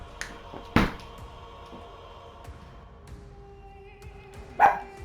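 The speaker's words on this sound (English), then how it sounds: "they see something in the window," Dogs indoors bark at something in the window, two sharp loud barks spaced several seconds apart over a low hum and quieter background clatter.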